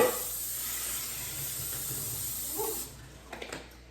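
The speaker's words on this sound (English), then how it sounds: "spray our 9x13 dish with just some cooking spray" A steady, close hiss of cooking spray into a 9x13 baking dish for nearly three seconds, then it stops and a few faint clicks and taps follow.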